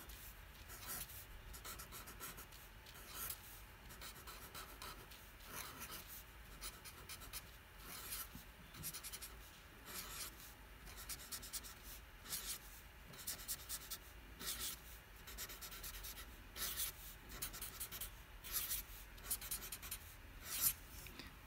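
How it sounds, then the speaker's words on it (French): Hand-drawing carbon chains on paper or a board for a chemistry lesson on soap micelles, a long run of quiet rhythmic pen or marker strokes, close and continuous with no talk. "je vais dessiner des chaînes carbonées qui se regroupent"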